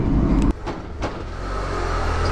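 Car interior riding inside the Channel Tunnel shuttle, a deep steady rumble and low road drone with a brief knock and whoosh near the start, no voices.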